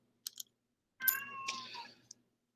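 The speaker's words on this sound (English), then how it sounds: "this poor cat has never been fed in her entire life and is desperately starving to death" A hungry cat meows: a short faint call, then after a pause a longer, louder drawn-out meow with a small click at its end, close to the microphone and alone.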